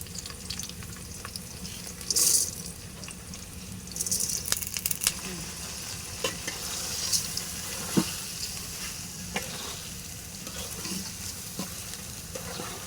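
Washed rice and lentils lightly frying in oil for khichuri, a low steady sizzle with occasional stirring scrapes and brief splashy bursts, close and moderate in level.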